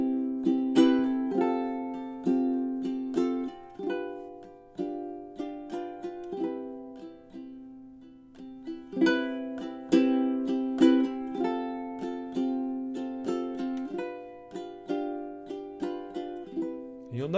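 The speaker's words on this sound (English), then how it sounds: "if I play it with just the strumming and I play the chords, again, it might sound something like this." Ukulele chords strummed in a steady rhythmic pattern, close and clear, with bright percussive strokes and ringing chord changes that vary in loudness, played alone without voices.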